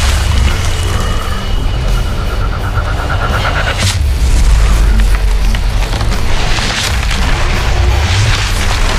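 In the Heroes of Newerth video game, a Legion barrack is destroyed with loud, heavy booms and crashing blasts, rumbling continuously over a dense, noisy battle mix.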